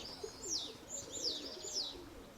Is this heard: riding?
no